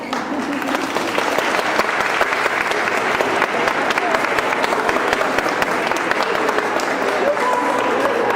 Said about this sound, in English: I'd like you to clap